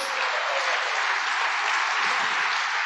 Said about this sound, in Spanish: ¿Le da un aplauso?